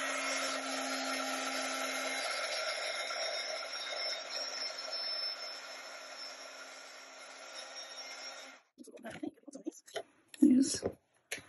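A handheld crafting heat tool blows hot air while Valentine's Day gift tags are being made. It gives a steady, close whirring hiss for about eight seconds, then cuts off, followed by brief clicks and handling noises.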